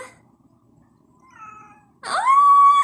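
A cat gives a soft, faint meow, then after a short pause lets out a louder, drawn-out meow close by.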